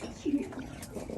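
Racing pigeons in a loft give a short, low cooing burst nearby while someone talks over them.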